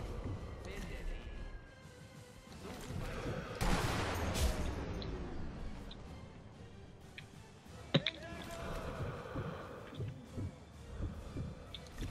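Gunfire in the sniper video game Sniper Elite V2, with bursts of shots and a sharp single crack later on, heard mixed under a player's excited talk and game ambience.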